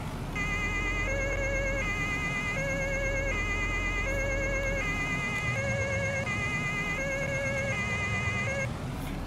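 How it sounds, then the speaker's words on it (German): A police car siren from a Farming Simulator 19 mod wails in a repeating two-tone pattern, loud and close, cycling steadily over a low engine drone. "Die ganz normale Sirene, die ihr vielleicht auch aus verschiedenen anderen Mods schon kennt"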